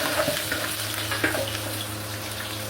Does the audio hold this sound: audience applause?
no